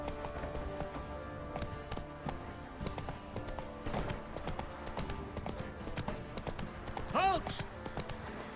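Hooves of the horse Roach clip-clopping at a steady gallop in The Witcher 3, a continuous rhythmic beat under game music and voices.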